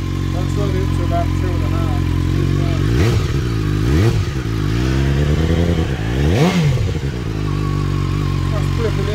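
Revs from a 2020 BMW S1000R motorcycle fitted with carbon fiber parts, a steady loud idle swelling into two sharp throttle blips that climb and drop back, with voices talking over it.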